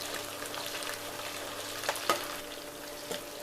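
Small onions and garlic sauté in a pan for a village-style garlic kulambu, giving a steady soft sizzle with a few brief stirring clinks, with no voices.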